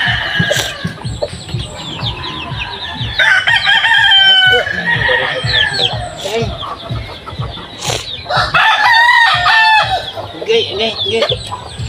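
Chickens cluck busily nearby while a rooster crows loudly several times, the calls overlapping in a lively farmyard din with people talking faintly underneath.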